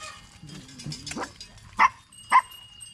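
A dog barks twice in sharp, loud bursts near the end, after some whimpering and yipping sounds, close by in an outdoor setting.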